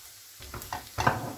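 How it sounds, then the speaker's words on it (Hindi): Onions lightly frying in a pan for chicken croquettes: soft sizzle with a few utensil stirs and scrapes against the pan, close and brief, no speech. "तो 2 मिनट अनियन को हम लोगों ने हल्का सा फ्राई किया है।"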